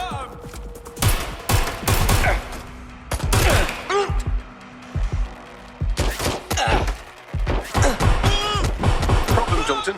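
Gunfire erupts in the Watch Dogs Legion game as rapid bursts and single shots in loud, dense volleys, with short pauses between, and some shouted voices mixed in.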